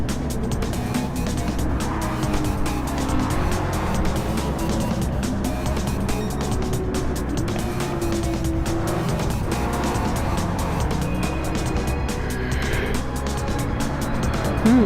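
Race cars, among them a Toyota Celica, roar around a circuit in a continuous dense wall of engine noise, with faint tire squeal and cars passing close, steady and loud throughout.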